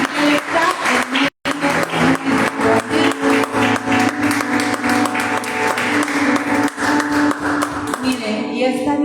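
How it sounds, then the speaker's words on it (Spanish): Church congregation clapping, a sustained dense burst of applause mixed with music and rhythmic tapping, loud and near, with a brief dropout early on before continuing to the end. "podamos darle un fuerte aplauso al Señor"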